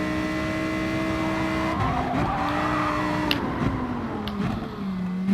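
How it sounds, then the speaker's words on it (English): Race car in the Gran Turismo video game braking hard with tires squealing and skidding into a corner, engine note dropping under a sustained screech, loud and close throughout. "I'm braking far too early for that corner"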